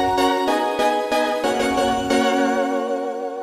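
A Yamaha PSR E473 keyboard playing the iTende synth dual patch 201 with its bright sound layered in, giving a rich, buzzy synth tone. Repeated notes are struck in a steady rhythm, loud and close, with no talking.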